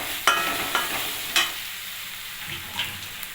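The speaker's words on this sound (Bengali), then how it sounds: "আর দেবো 1 চামচ মতন হলুদ। এটা একটু নাড়াচাড়া করে নেব।" Turmeric is stirred into a hot pan of chicken masala pasta, a close frying sizzle punctuated by a handful of sharp spoon scrapes and clicks.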